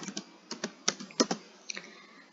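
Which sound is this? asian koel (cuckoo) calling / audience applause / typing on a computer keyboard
typing on a computer keyboard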